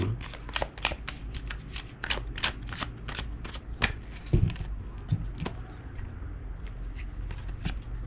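Tarot cards are riffled and shuffled in a quick run of sharp, crisp flutters repeating in uneven bursts close by, with no voices over them.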